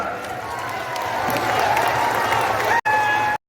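A crowd claps and cheers to welcome Prime Minister Narendra Modi at an event in Jharkhand, a dense, steady wash of applause that swells slightly, then breaks off briefly and resumes before cutting out.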